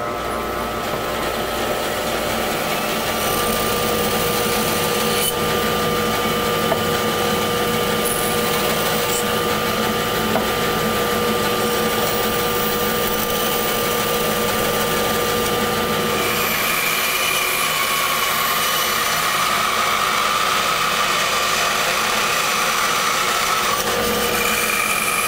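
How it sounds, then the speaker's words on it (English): A bandsaw cuts down through a wooden bowl blank for an arched bowl, giving a steady, close whirring hum with a thin tonal whine that runs unbroken for about 25 seconds and shifts slightly in tone partway through. "So what we're going to do with the bandsaw is I'm going to cut down to this deepest part."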